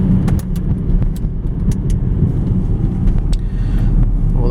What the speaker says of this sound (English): start out in second gear at just a crawl, and the vehicle just accelerates quickly